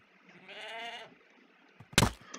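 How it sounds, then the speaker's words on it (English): A goat in Minecraft gives one drawn-out nasal bleat, followed a moment later by a sharp loud thump as it rams, with no talking. "Oh gosh! It's ramming goat!"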